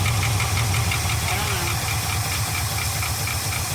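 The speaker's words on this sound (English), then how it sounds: "We're gonna bring the idle up ever so slowly. Top end still got a rattle" An abandoned 1975 Ford F500 rollback truck engine idles after sitting 17 years in a field, a loud rough running chug with a persistent top-end rattle throughout.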